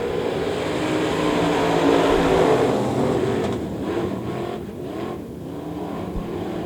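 Limited-class race cars roar around Devil's Bowl Speedway during a weekly heat race, a dense, steady engine drone that swells loudly in the first seconds and then eases slightly as the pack runs on.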